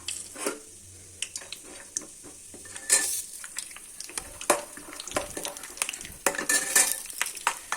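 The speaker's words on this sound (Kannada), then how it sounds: "ಕಡಲೆ ಬೀಜ ನೋಡಿ ಈ ಥರ ಫ್ರೈ ಮಾಡಿದ್ರೆ ಒಳ್ಳೆ ರುಚಿ ಕೊಡುತ್ತೆ" Peanuts frying in heated oil in a pan, a soft steady sizzle broken by irregular stirring scrapes and light clinks of a utensil, close and moderately loud with no talking.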